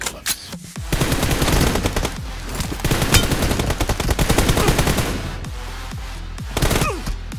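Rapid automatic gunfire rattles in sustained bursts during a mobile shooter team deathmatch, loud and close, with short pauses between volleys and no speech.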